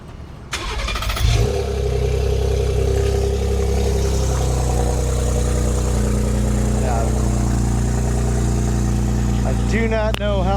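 A truck fitted with catted downpipes and a front-mount intercooler cold-starts with a sharp crank and catch, flares loudly, then settles into a steady, deep idle that runs close to the microphone.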